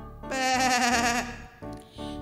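A sheep bleats once loudly and close, a long wavering cry, followed by a shorter second bleat, in a children's Sunday school story about a lost sheep.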